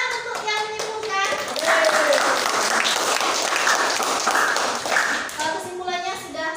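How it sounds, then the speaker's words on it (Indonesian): Applause from a classroom of children, a burst of clapping that swells and holds for several seconds before thinning out, with a voice and a few higher vocal tones heard over the start and end. "Ya, tepuk tangan untuk yang menyimpulkan."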